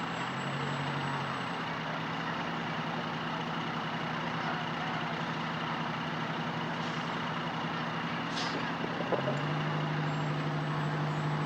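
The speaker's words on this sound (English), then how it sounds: "Our 284 rescue truck is up next. It's a 1983 American La France Salisbury rescue truck" A 1983 American LaFrance Salisbury rescue truck rolls past at a community day event, giving a steady, fairly close engine drone with a faint high tone over a rumbling low end and no talk.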